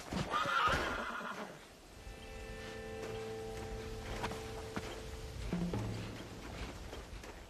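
Horses in Red Dead Redemption: a sharp whinny up front, then steady clip-clop of hooves with soft rustling, moderately close and without talk.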